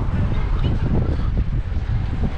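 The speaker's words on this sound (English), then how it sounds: "That might be a bit windy now." Loud, blustery wind buffets the microphone throughout with a dense, low rumble and no voices.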